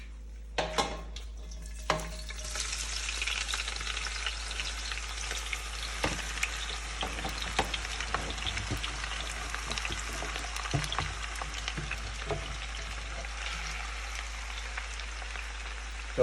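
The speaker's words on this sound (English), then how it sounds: "it takes a while to caramelize the onions" Onions frying for French onion soup sizzle steadily in a pan, a continuous crackling hiss with occasional sharper pops and stirring clatters, fairly close and with no voices.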